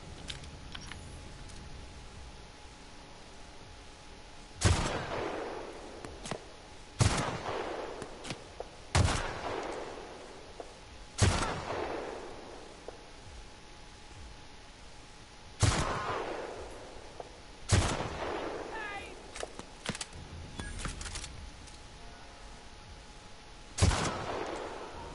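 Sniper rifle shots in The Outer Worlds, about eight sharp loud single cracks spaced several seconds apart, each followed by a short decaying tail over a quiet background.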